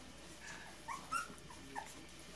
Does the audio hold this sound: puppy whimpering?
yes